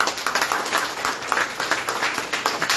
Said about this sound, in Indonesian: berikan tepuk tangan yang paling meriah bagi Tuhan